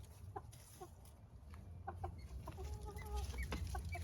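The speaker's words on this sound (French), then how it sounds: "On a du coup le petit coq lisse rouge germiné noir." A smooth-feathered red black-laced bantam rooster clucks in short, scattered calls over a steady low farmyard hum, fairly close and moderately loud.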